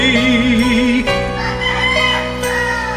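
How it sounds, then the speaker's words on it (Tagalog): A rooster crows loudly nearby in a long, wavering call, with a second shorter crow and other birds faintly behind. "May manok pa?"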